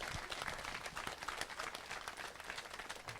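A crowd at a rural village television broadcast gives a brief, faint, dense round of applause.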